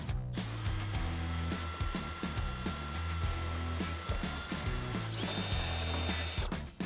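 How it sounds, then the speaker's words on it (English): A power drill bores holes through the body of a Jeep Wrangler for a fender upgrade, a dense rattling, ratcheting whir that runs continuously and close, pulsing rhythmically with a steady high whine above it. "So let's go ahead and get these marked and get the holes drilled."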